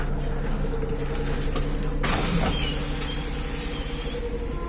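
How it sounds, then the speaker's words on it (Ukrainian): Doors on a MAZ city bus close partway through: a sudden sharp pneumatic hiss and clunk cut in over the low engine hum, then settle into a steady hiss. No one speaks. "Осторожно, двери зачиняются."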